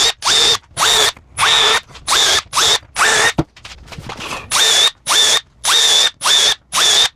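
A power drill countersinks screw holes in a sink cabinet, running in about eleven short, loud whirring bursts with brief pauses between them. A softer scraping stretch sits in the middle, and no one talks.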